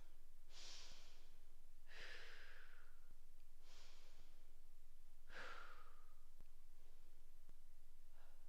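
Deep, audible breaths during a warrior 2 yoga pose, with several long exhales and sighing breaths spaced a second or two apart, close and fairly quiet, with no talking.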